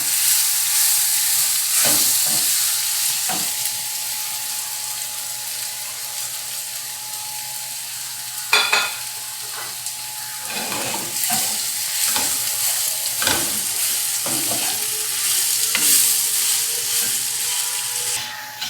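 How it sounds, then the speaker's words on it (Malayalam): Flattened rice with banana and cashews is stirred and sautéed in a pan for Kerala-style aval sukhiyan: a steady sizzle runs throughout, broken by repeated scraping clicks of a spoon against the pan, with no talking. "അപ്പോൾ നമുക്ക് ഈ അവലെടുത്ത് വെച്ചിരിക്കുന്ന 2 കപ്പ് അവലും കൂടി ഇട്ട് കൊടുക്കാം. നന്നായിട്ടൊന്ന് വഴറ്റിയെടുക്കാം."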